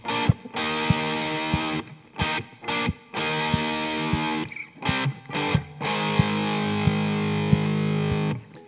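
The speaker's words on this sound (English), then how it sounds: "But this particular guitar moves up and plays some of the chords in a slightly different manner, up in a different position, and it sounds like this." Distorted electric guitar plays chords in a higher position, with choppy staccato stabs and short muted gaps, then longer ringing chords, loud and alone.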